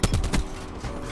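Call of Duty gunfire punching through a wall: two or three sharp, loud shots in quick succession, close by, fading into a brief muffled tail.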